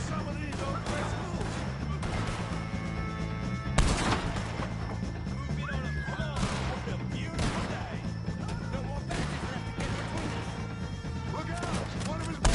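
Gunfire during a Red Dead Redemption 2 shootout with the O'Driscoll gang, sharp shots cracking at irregular intervals over a steady backdrop of game noise and voices.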